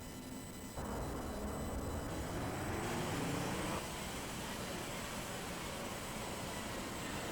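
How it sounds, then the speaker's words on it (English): A simulated Swiss Airbus A330 engine starts up in Flight Simulator X, a steady broad jet roar that jumps louder, then settles back to a constant, even hum. "There's the engine starting, I believe, so it's good."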